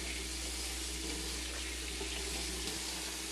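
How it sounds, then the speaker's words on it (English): Hot tap water runs over a kitchen item being rinsed clean, a constant close rushing hiss with a low hum beneath and no talking. "Run it under hot water."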